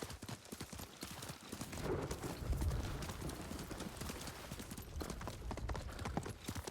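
Rapid hoofbeats of a horse in the video game Ghost of Tsushima clatter in a quick galloping rhythm over rough, rocky ground, moderately close, with a scuffing, thudding texture.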